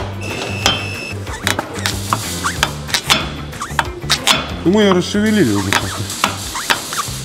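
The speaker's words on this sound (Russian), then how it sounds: "Скрип – это проворачивание стабилизатора во втулке стабилизатора." The front stabilizer bar of a Volkswagen Tiguan creaks as it twists in its worn bushing during suspension work. Sharp knocks and clatter are followed by a couple of rising-and-falling squeaks, with someone speaking briefly.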